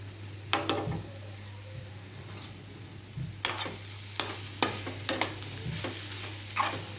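Masala and coriander powder frying with prawns in oil make a steady low sizzle, broken by several sharp stirring scrapes against the pan, with no talking.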